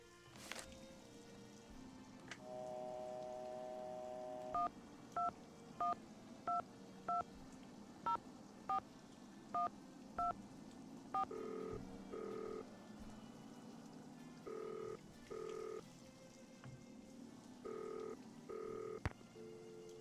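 Telephone keypad dialing tones from the Nancy Drew game Danger by Design, a steady tone followed by a regular series of short two-pitch beeps, then irregular grouped tones, fairly clear against a low background.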